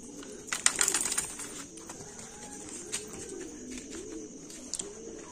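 Racing pigeons coo softly in low, rolling calls, with a few brief flutters and clicks early on and a steady hiss in the background.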